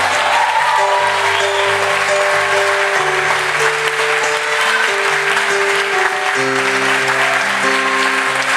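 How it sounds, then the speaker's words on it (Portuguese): Loud, sustained applause from a church congregation fills the space, steady and close throughout, with a musical keyboard tone holding underneath. "dê um forte aplauso a ele"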